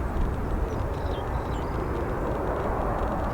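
An American Airlines Airbus A319 jet roars steadily at O'Hare Airport, a broad, constant low rumble heard from a moderate distance with no talk.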